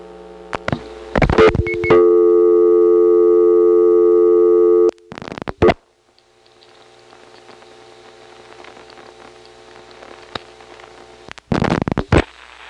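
A telephone call is placed through a step-by-step exchange, with clattering mechanical switching bursts, a steady tone held for several seconds, then a hissing line and more relay clicks, loud and close with no talking.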